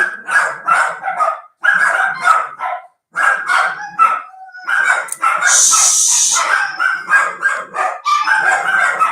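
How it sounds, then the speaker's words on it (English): Dogs bark in short bursts indoors, mixed in with a man reading aloud and hushing them, with one louder, brighter outburst partway through. "Let the dogs do their thing."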